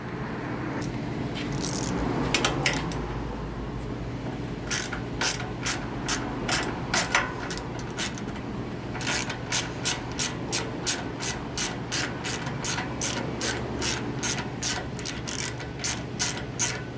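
A ratchet works four 10 mm bolts out of a Champion 3500 generator, its rapid clicking coming in repeated bursts with short pauses, close and clear over a faint background hum.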